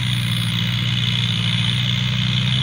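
A Kubota tractor engine drones steadily and loudly while plowing a field, a continuous low mechanical rumble with no speech.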